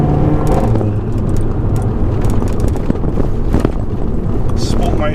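A Mercedes A45 AMG accelerates hard along a straight road, its engine note loud and continuous from inside the cabin with road and wind rumble underneath and a voice speaking over it.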